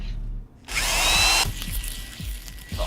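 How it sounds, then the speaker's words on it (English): A power drill whirs loudly and steadily for under a second, then stops, with background game sounds before and after. "Drill."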